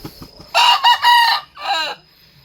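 White Kelso gamefowl rooster, a senior breeding cock, crowing once loudly and close, a long strained call broken into a few bursts with a trailing final note.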